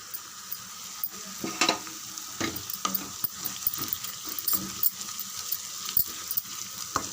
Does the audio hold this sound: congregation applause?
no